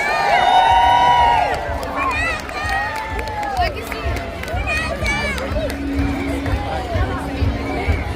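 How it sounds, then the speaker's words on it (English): Crowd at a St Patrick's Day parade in Drogheda, Ireland, cheers and calls out, mixed with chatter and scattered high shouts and whistles, fairly loud and close, with voices talking throughout. "So a big cheer for all our confident local girls"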